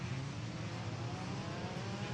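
Formula 3 race cars in an FIA F3 European Championship race accelerate after a safety car restart, giving a steady, dense engine whir that sounds fairly distant and faint, with no clear pass-by peaks.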